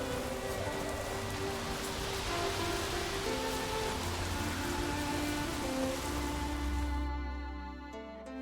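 Steady rain in the video game The Witcher 3 patters on surfaces, a dense hiss with scattered drops and faint low tones, fading slightly at the end.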